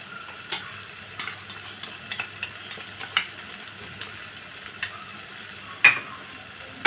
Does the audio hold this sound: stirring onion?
yes